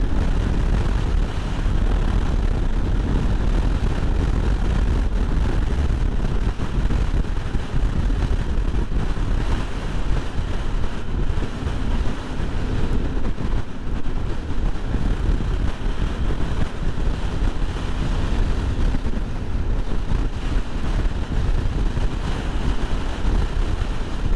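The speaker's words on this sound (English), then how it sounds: "this gives a pretty good idea of just how strong the winds were" Strong dust-storm wind buffets a motorcyclist on a New Mexico ride after leaving the freeway, a loud, constant roar of rushing air with no voices.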